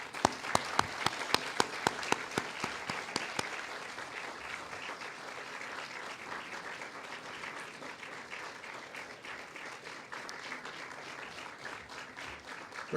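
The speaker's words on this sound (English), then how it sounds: "give them a big round of applause" Graduates at a 2011 commencement ceremony applaud their families, a few sharp distinct claps at the start giving way to broad, fairly distant sustained applause from a large hall crowd.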